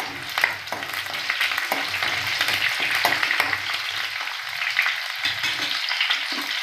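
Mustard seeds, cumin, garlic and curry leaves crackle and sizzle in hot oil for a cauliflower and green peas curry, a steady close frying hiss with scattered pops and stirring scrapes throughout.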